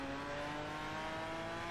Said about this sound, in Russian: Молниеносный звук Lamborghini.